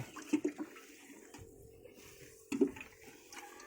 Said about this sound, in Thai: ผมก็จะใช้ ตัวกากน้ำตาลนะครับ สมน้ำราดลงไป